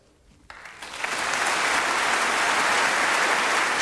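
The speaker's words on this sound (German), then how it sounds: "Starker Beifall für den ersten Präsidenten des Vereinigten Deutschlands." Strong applause for the first president of reunified Germany at the 1990 German unity ceremony swells quickly from quiet into a loud, sustained wash of clapping from a large audience, with no voices over it.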